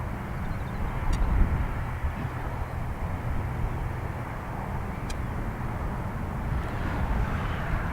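An airliner in an older rugby livery going around at Dublin Airport, a broad continuous engine roar holding steady, distant and even, with no voices.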